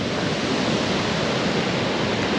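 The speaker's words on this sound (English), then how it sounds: "I don't know if this camera's picking up the sound of the water, but it's a really wonderful sound." Steady, dense rush of flowing water from the River Lech, a continuous broadband roar at close range with no pauses and no voices.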